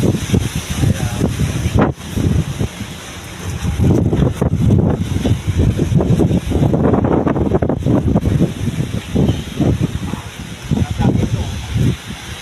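Strong wind buffets the microphone in Banda Aceh, with heavy gusting roar and rumble throughout and people talking under it.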